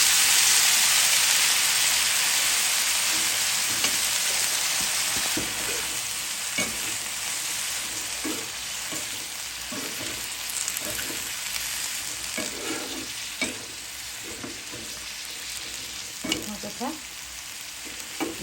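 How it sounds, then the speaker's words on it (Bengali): Long yard beans fry in a pan with a loud, steady sizzle that eases slightly after the first few seconds, broken by repeated scraping and clacking strokes as they are stirred. "হালকা ভেজে নিব, বেশি ভাজবো না।"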